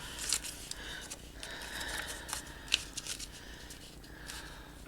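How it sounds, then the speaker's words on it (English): Scissors trim envelope paper for a journal topper, giving a few short, crisp snips with light paper rustling between the cuts, close and fairly quiet. "Like these little tails, we'll end up trimming those off because the envelope is shaped kind of different."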